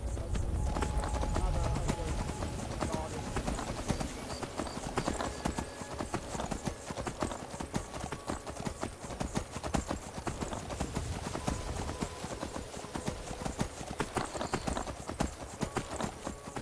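Horse hooves clip-clopping as a horse-drawn carriage rolls along in Skyrim, a steady continuous rhythm of close hoofbeats running throughout under faint ambient game sound.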